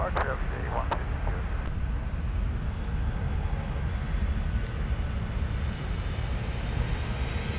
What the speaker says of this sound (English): You didn't even have to know that was an A330, Alex. All you had to do was hear it.